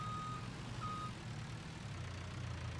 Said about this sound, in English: Backup alarm.